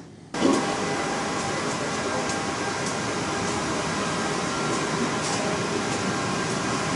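An Objet Connex 500 3D printer runs with a steady, broadband mechanical hum and hiss after a brief quieter start, with faint periodic ticks over the continuous machine noise.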